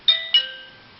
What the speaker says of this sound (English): So like a doorbell or a desk bell,